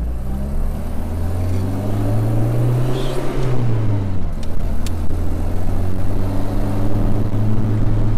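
1971 Citroen DS driving over road bumps, giving a steady loud engine and road drone with a whining tone that rises and falls.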